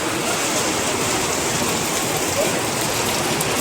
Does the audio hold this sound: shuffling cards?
no